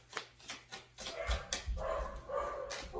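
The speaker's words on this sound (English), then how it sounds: "My dogs are going crazy because my son is home," Excited dogs bark and yip in quick bursts at a family member's arrival indoors, several sharp close barks with whimpers between.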